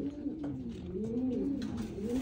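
A racing pigeon coos in a rolling, continuous sequence of low, throaty calls, heard close and clear without talk.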